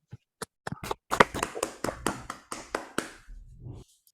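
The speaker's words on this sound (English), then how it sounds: "So another round of applause for Knight Technologies." Sparse, separate hand claps from a few people in an online hackathon showcase, about a dozen irregular sharp taps spread over four seconds with short silent gaps, moderately loud and close, with no talk.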